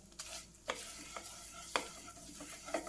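Sugar is stirred in a hot pan for khoya laddu, faint sizzling under a handful of quiet, sharp spoon scrapes.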